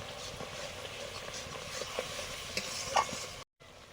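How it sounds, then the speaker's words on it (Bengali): Spice paste with hot chili powder being stirred and fried in a pan, a steady soft sizzle with scraping stir strokes, close and continuous, one sharper clatter near the end before a brief cut to silence. "মশলা ধোয়া জলটা দিয়ে মশলাটা কষিয়ে নিচ্ছি।"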